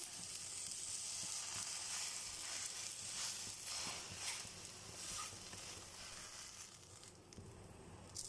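Pizza-style uttapam topped with tomato and onion sizzles steadily on a hot pan over medium flame, a continuous close frying crackle with no voices.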